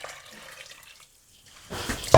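Boiled kettle water is poured into a pot of meat for a meat and potato brown rice pilau, a soft watery splash fading out and then a louder, close gush of pouring at the end.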